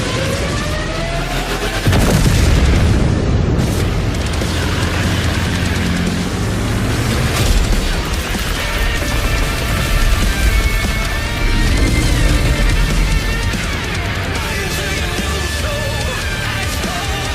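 Rumbling tank battle from a World of Tanks trailer, with heavy booms, gunfire and engine noise layered under a constant cinematic music bed across the whole stretch.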